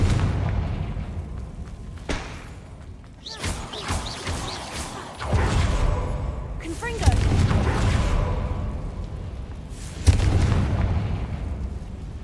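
Confringo blast spells go off in Hogwarts Legacy as several heavy booming explosions spaced a few seconds apart, with rumbling debris and a voice audible between them.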